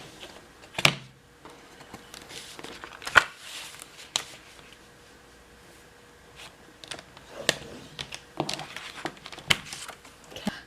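Paper scored on a paper trimmer: several short, sharp scraping strokes and clicks with quiet gaps between them, close by and fairly faint.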